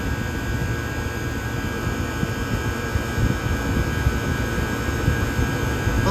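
The compressor of a 1978 Comfort-Aire Quietmaster air conditioner running hot at high pressure, a loud, steady mechanical hum and roar with a thin high whine on top, continuous and unvarying, with no voices.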